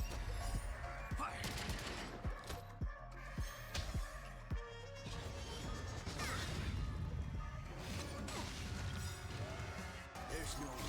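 Gunfire in a video game scene set in Penacony, a dense flurry of sharp overlapping shots and crashes mixed with music and effects, with voices speaking.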